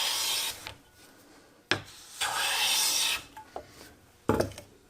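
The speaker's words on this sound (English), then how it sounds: "so now I'm getting consistent shavings" A bench plane shaves a wooden board in long rasping strokes, each a sustained hiss of the blade cutting with a sharp knock as the stroke starts or ends; close and clear, with no talking.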